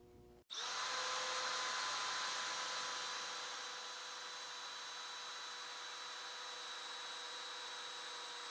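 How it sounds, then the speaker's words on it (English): A power drill fitted with a Triton bit bores steadily into a wooden seat until it reaches the drill stop, a loud continuous whine that starts abruptly, stays strong, then eases slightly in pitch and level and holds on alone. "then we drill till we hit our stop"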